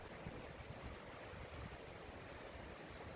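A fast-flowing river crashes through rocks into a deep pool inside Smoo Cave, making a steady, dense, roaring rush with no break.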